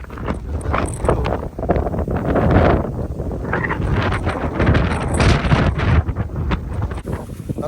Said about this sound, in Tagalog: Taas ng hangin, tiyatangay kami.